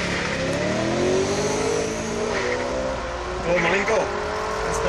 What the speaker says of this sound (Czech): dvě M3, Frozen Grey versus M-Power, nálepky, pěkná auta oboje